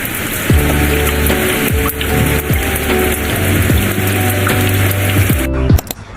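Steady rain pours down on a farm, a loud, close, continuous patter with dense drops drumming on nearby surfaces, cut off abruptly near the end.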